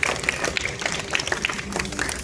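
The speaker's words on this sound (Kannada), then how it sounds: "ಈ ಮಕ್ಕಳಿಗೆ ಒಂದು ದೊಡ್ಡ ಚಪ್ಪಾಳೆ ಬರಲಿ ಮಕ್ಕಳಿಗೆ" A small audience claps for a children's music performance. The claps are scattered and fairly quiet, and a low hum runs underneath.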